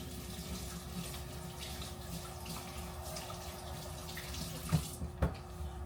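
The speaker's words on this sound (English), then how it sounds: "I'm gonna wash my hands." Water runs steadily from a kitchen sink tap while hands are washed under the stream, a soft continuous wash with a couple of brief splashy knocks near the end.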